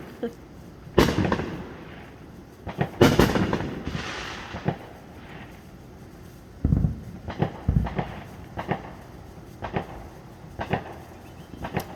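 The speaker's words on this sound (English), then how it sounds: "Free fireworks." Distant Fourth of July fireworks pop and boom irregularly, several loud cracks early on and scattered softer bangs afterward, echoing outdoors.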